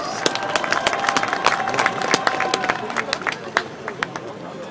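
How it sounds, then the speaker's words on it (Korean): Crowd applause welcoming a speaker at a citizens' emergency rally in Gwangju, with sharp scattered claps and cheers over a busy outdoor murmur, voices audible throughout. "힘찬 박수로 모시겠습니다"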